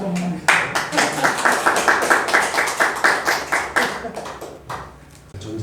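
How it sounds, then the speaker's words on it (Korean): An audience at a weekend humanities lecture on happiness claps in a fast, fairly uniform rhythm, crisp and close, then the clapping thins out and stops before the end. "박수 한번."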